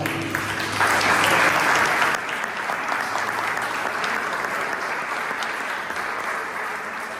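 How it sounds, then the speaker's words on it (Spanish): A church congregation at Centro Cristiano Hechos de Amor breaks into loud applause, a full burst of many hands clapping that swells early and then holds at a slightly lower, even level. "Denle un fuerte aplauso al Señor."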